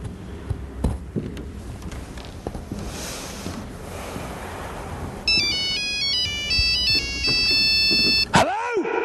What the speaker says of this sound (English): Oh, we're getting phone calls too.